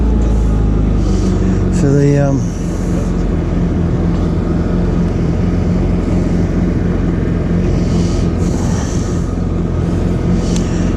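A new 2022 Kawasaki Ultra 310LX jet ski starts up in neutral with a rising whine, then settles into a loud, steady engine rumble close by, with someone briefly talking over it.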